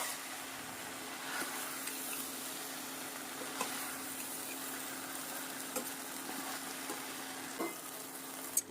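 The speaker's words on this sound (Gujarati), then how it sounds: "ચોખાને સારી રીતે મિક્સ કરી લેશું" Rice being stirred and mixed into a pressure cooker pot with oil for khari bhat, a steady soft sizzle and scraping stir with occasional light clicks of the spoon throughout, no talking.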